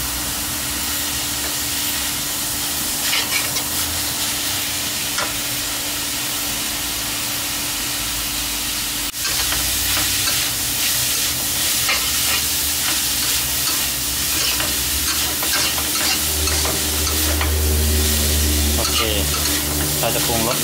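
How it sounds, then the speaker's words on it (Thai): Dried shrimp being stir-fried in a pan until dry, a continuous loud sizzle with frequent scraping stirs, a steady low hum underneath and a brief knock partway through. "ใช้กุ้งแห้งฝอยนะฮะมาใส่เพิ่มนะครับผัดให้แห้งครับ"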